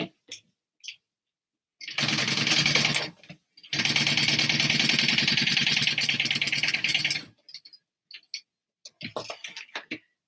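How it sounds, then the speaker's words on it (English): A sewing machine topstitches a leather-style Divina handbag in two long, steady bursts of running stitches, loud and close, with short pauses and light handling noises in between. "And we're going to top stitch that."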